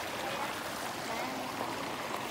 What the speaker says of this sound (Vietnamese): Nước suối mà.